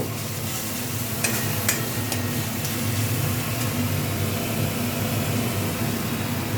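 Boal fish tel jhal with kalo jeere tempering, sautéed in a pan with a splash of water in a home kitchen, hisses as a steady close sizzle with a few sharp clicks of a stirring spoon against the pan.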